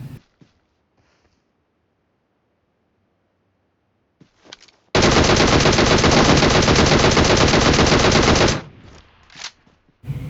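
A sustained spray of automatic gunfire in the PUBG Mobile battle royale game, a dense rapid burst lasting several seconds after near silence, followed by a few brief sharp sounds.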